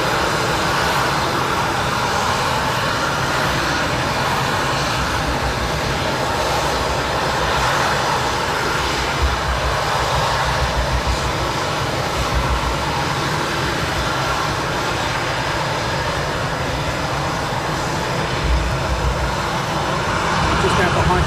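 Eurofighter Typhoon jet engines running at an RAF airfield at night, a steady loud roar that fills the whole stretch without letup, with a voice talking over it.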